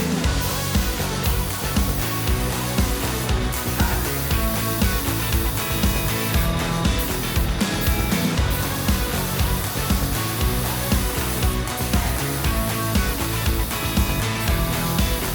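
A spray gun lays high-build primer onto a Honda Civic with a continuous, dense hiss and airy rush, steady and close for the whole stretch with small flutters in the texture.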